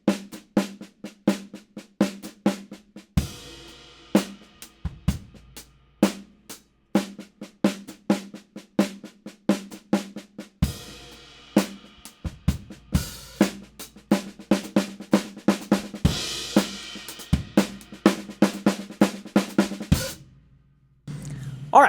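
Drum kit groove with fills worked in, steady beats broken by rapid bursts of tom and snare hits and cymbal crashes, close and clear, with a short pause near the end.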